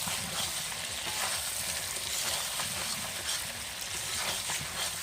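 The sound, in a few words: stirring chicken curry with potatoes in a pot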